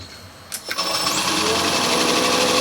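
A Cummins CP3 common-rail fuel injection pump, old and previously seized, spins up to about 750 RPM: a brief clunk, then a loud steady mechanical whir with a high whine held close and constant.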